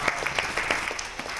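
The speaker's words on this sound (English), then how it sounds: "You can applaud that." Audience applause at a Costco Business Center ribbon cutting in Southfield, Michigan, a steady wash of many hands clapping at moderate volume, brief and without speech.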